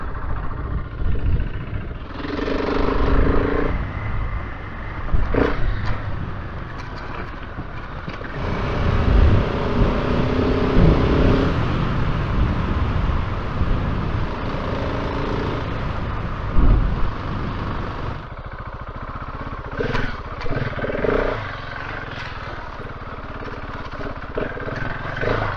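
Enduro motorcycle ridden around a campsite, its engine rising and falling with throttle and gear changes, mostly a near, rough drone with wind noise throughout.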